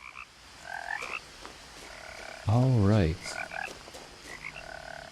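A toad in the woods of What Remains of Edith Finch gives one loud, close, warbling croak lasting about half a second, rising over soft game ambience and scattered chiming tones. A brief spoken remark comes before it.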